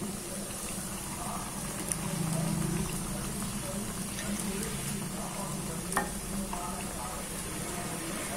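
Potato cutlets coated in maida batter and breadcrumbs fry in hot oil with a steady, fairly quiet sizzle and crackle running throughout, a few soft clinks and occasional faint voice in the background.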